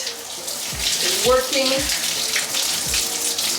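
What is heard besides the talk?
water running over scalp while washing braids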